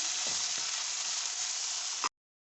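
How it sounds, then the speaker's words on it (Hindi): Tomatoes frying in masala for a besan chana curry give a steady, loud sizzle that holds for about two seconds, with a faint stir early on and a brief clatter just before it cuts off to silence. "अब हम इसमें ये टमाटर शामिल करेंगे, इनको भूनेंगे"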